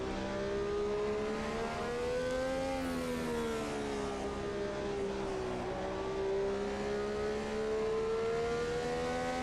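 Simulated engine of the Brabham BT46B Formula 1 fan car, driven around the Spielberg circuit in Automobilista 2. It gives a continuous, loud, close tonal drone that rises and falls with gear changes and throttle.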